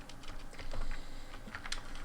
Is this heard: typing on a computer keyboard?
yes